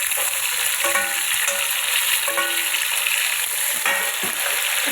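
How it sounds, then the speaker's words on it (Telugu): Tomatoes fry in a hot pan for chicken pulao, giving a continuous close sizzle with a few short stirring scrapes and clinks at intervals, with no talking. "ఇప్పుడు టమాటా యాడ్ చేసుకున్నాను."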